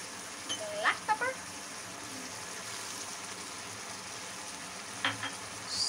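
Spices such as red chili powder and black pepper fry in a pan for Singapore rice, a soft, steady sizzle at low level with a few sharp utensil clinks near the start and end.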